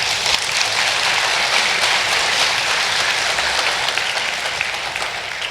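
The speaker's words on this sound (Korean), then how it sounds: "격려 박수 한번 부탁드립니다" An audience at a Buddhist dharma talk gives encouraging applause, a loud, dense, continuous patter of many hands clapping that holds evenly for several seconds and tapers slightly at the end.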